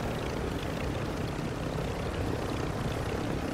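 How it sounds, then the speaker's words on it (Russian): A helicopter in a shooter video game thrums steadily and loudly throughout, a dense rotor-and-engine roar with no pauses and no voices over it. "Вообще какой-то еле управляется этот вертолет."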